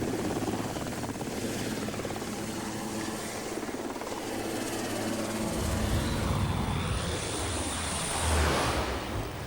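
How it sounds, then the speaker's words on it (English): An amphibious helicopter's steady rotor thrum and turbine whine, fairly distant, growing louder and rougher as it climbs. "They really do have amphibious helicopters."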